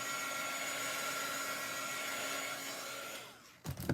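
A hair dryer blows steadily at close range on a wet Chalk Couture craft stencil, a constant whooshing hum that fades slightly before switching off near the end, followed by a brief handling clatter.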